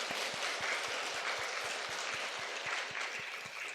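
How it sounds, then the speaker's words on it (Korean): Congregation applauding for children baptized during a Sunday church service, a steady wash of many hands clapping at a distance, even and sustained with no voices. "큰 박수로 우리 자녀들 축복해 주시기 바랍니다"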